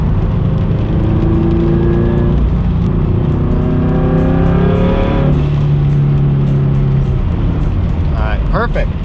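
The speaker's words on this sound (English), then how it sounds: "Try to give it a couple more partial throttles." A turbocharged Subaru BRZ engine revs at partial throttle, loud and close, its pitch climbing and falling through several pulls. Someone talks over it, and heavy rain patters in the background.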